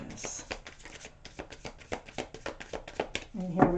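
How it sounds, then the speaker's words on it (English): Rapid, rhythmic riffling of a tarot deck, dozens of quick papery flicks close up, with a brief voice at the very end. "One more shuffle for Aquarius."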